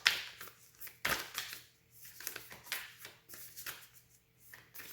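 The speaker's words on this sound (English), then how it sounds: "let me pull this card here" Tarot cards shuffled and drawn by hand, a series of soft close riffling and slapping bursts with quiet pauses between, alone without talk.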